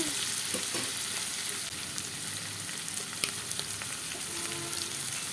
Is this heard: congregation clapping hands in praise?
no